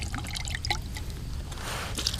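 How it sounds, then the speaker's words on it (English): A little water poured into a bag of carp pack bait mixed with chili powder, a close, steady splashing trickle with scattered drips and rustling, no talk. "And then I'm going to grab just a little bit of water"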